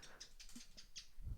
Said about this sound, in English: you can hear my bird.